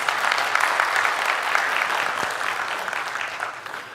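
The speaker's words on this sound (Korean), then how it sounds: "박수 한번 쳐주시죠, 그러면." Audience applause at a public talk on relocating Muan Airport and merging civil and military airports in South Jeonnam, steady clapping from a sizeable crowd that sustains for about four seconds before easing slightly.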